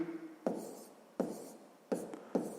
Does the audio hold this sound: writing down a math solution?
yes